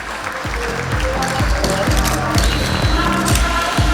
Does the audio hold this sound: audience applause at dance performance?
yes